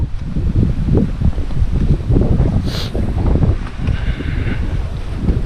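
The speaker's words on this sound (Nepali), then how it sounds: "अब अगाडि जाँदैछु माथि जोड हावा चल्दैछ" Strong wind gusts buffet the microphone on the rough mountain trail up to Sandakphu, a loud continuous low rumble with uneven surges and a faint brief whistle, and no one speaking.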